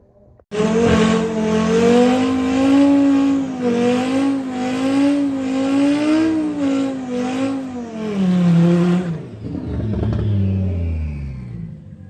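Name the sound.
5-cylinder Audi RS3 and 20 valve turbo VW Polo GTI drag racing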